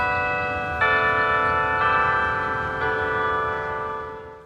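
Large bells in the California Bell Tower at Balboa Park, San Diego, strike three times about a second apart, each rich, ringing tone overlapping the last and slowly fading, heard clearly and alone.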